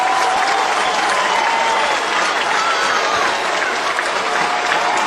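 A baseball crowd of about 5,400 cheers and applauds loudly and steadily as a manager kicks dirt over home plate, a dense continuous roar with no pauses.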